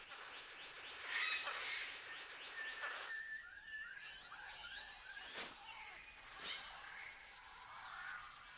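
Birds of paradise calling in a New Guinea forest, a series of fairly faint chirps, whistles and sharp clicks over a soft, steady forest background.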